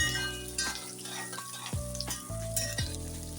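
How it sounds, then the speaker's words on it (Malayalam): Onions sizzle steadily in hot mustard oil with garlic, ginger and green chilli, stirred with a few sharp spoon scrapes against the pan, close up with no talking. "നല്ല ബ്രൗൺ കളർ ആകുന്നത് വരെ നമുക്ക് ഉള്ളി മൂപ്പിച്ചെടുക്കാം"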